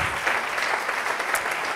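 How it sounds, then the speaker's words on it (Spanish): A church congregation applauding during a Spanish-language sermon: a full, sustained burst of clapping from many hands that fills the hall at a steady level, without anyone speaking over it. "si quiere, darle ese aplauso al Señor y gócese y alégrese"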